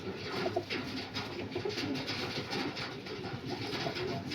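Panjabi pigeons, including a hen, coo steadily and continuously at close range amid a constant noisy backdrop, with no talk.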